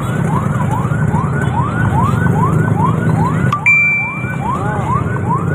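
A fire truck siren wails loudly and close by at a large fire in Prumpung, East Jakarta, rising and falling in a steady repeating cycle before it cuts to a shorter tone near the end.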